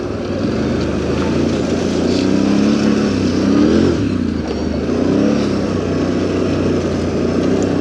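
A quad ATV engine rolling through a rocky creek-bed rock garden, a steady low rumble rising and falling as the throttle changes, close and fairly loud throughout.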